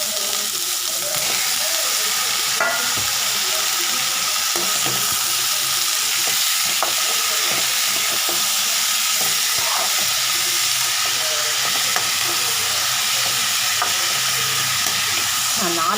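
Tomatoes fry and get stirred in a pan with onion for a home-cooked meal for four, a steady broadband sizzle running the whole time with scattered scraping stir sounds, close and fairly loud, with no talk.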